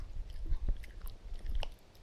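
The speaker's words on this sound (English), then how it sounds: "that munching sound, not a fan" Wet, irregular munching and crunching from an unseen creature in a dark horror game demo, faint and close, with soft chewing bites scattered over about two seconds and no voices.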